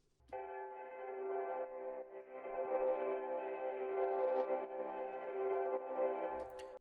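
A hammer scraped on bare wood, run through a resonator, EQ, saturator and tape effect, rings out as one sustained, bell-like pitched tone for several seconds, steady and fairly quiet, with no talking.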